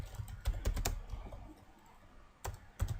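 HTML code is typed on a computer keyboard in a quiet room: two short bursts of quick, close key clicks separated by a brief pause.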